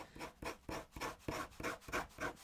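A thin-nibbled pen scratches across paper in quick repeated strokes, about eight rasping rubs in a steady rhythm, close and quiet.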